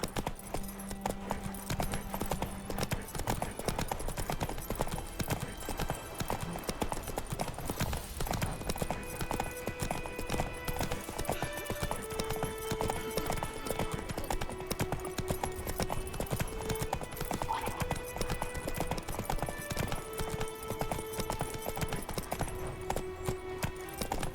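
Roach the horse trots in The Witcher 3: Wild Hunt, with a steady, fast clip-clop of hooves running throughout over a continuous bed of game music and ambience.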